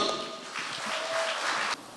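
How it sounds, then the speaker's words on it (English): Audience applause for a speaker at a celebration-of-life evening of music, steady clapping that runs about two seconds and stops abruptly near the end. "I don't think I deserve this kind of applaud, but it's nice to have it."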